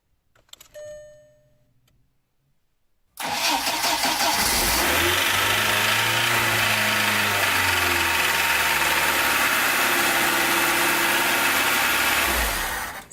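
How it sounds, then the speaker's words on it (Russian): A car engine, just fitted with a replacement starter motor, cranks briefly and fires up, settling into a loud, steady idle close by after a faint click and pause. "стартер коленвал прокручивает очень легко, без никаких затруднений, и двигатель запускается без проблем"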